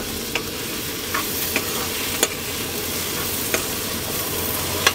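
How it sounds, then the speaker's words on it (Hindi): Chopped onion, garlic and chili fry in hot oil with a steady, dense sizzle. A spoon knocks and scrapes the pan now and then as it stirs the pieces, and no one talks. "दोस्तों प्याज तो अभी हमारा भूज रहा है ये देखिए"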